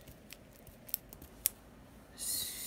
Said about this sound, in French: Là, je vais essayer de couper ces habits.